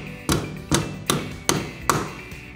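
Hammer strikes driving a 3/4-ounce hammer-on balance weight onto a wheel rim at top dead center on a Rotary R155 wheel balancer: five sharp metallic taps at a steady, roughly even rhythm, close and clear with no talk.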